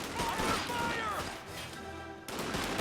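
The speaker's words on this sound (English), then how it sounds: "Look at these rifle grenades coming in." In Company of Heroes 2, rifle grenades burst in a quick cluster of sharp, crackling blasts mixed with gunfire, fairly faint and layered with a voice over the battle.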